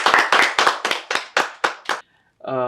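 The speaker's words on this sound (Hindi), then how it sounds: "तालियां हो जाए एक बार।" An interview audience claps in about eight rhythmic, unison bursts that are loud and close, then a short pause before a voice begins speaking.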